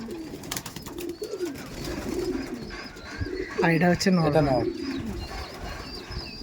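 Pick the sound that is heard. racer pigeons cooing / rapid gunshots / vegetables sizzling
racer pigeons cooing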